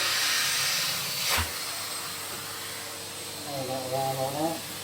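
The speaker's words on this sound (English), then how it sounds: "we're going to put the hoover on" A hoover vacuum running while sweeping out a Morso wood burning stove without a liner, a steady rushing hiss throughout with a brief louder surge, a voice talking partway through.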